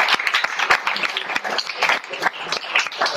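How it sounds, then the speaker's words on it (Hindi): An audience at a theatre play claps loudly and continuously, a thick patter of many hands close by with irregular sharp peaks throughout, with no voices over it. "तालियों के बीच में अपनी एक छोटी स्मृति भारद्वाज मैं को मंच पर आमंत्रित करता हूँ"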